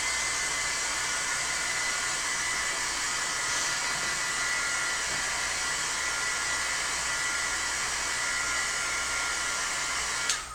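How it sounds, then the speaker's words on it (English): A heat gun blows a steady, even roar close by while drying ink on a stencil, unbroken for the whole stretch with no talk. "let me hit this with a heat gun"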